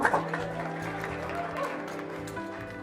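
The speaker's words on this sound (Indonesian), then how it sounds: "Tepuk tangannya dulu dong." Audience applause breaks out at an evening stage event just after a band's song, a dense steady wash of clapping that holds for several seconds with music continuing underneath.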